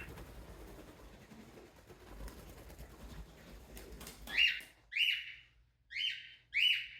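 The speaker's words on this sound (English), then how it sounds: "birds being loud" Pet birds in an indoor room give a series of loud, close chirps and calls in four bursts, following a stretch of low background rumble.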